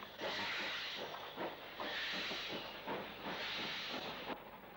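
Steam locomotive 45308 departs a station, giving off rhythmic chuffing bursts of steam that pulse several times at moderate distance over a continuous hiss.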